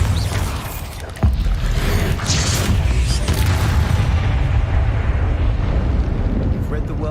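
A Bombarda spell blast in the Hogwarts Legacy video game: a sudden loud boom followed by a sustained roaring rumble that fills the rest of the moment.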